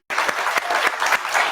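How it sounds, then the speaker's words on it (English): A lecture audience applauds for a college professor: dense, steady clapping from a crowd fills the moment, loud and close, with no talking over it. "a big round of applause for Washington College Professor Bill Schindler"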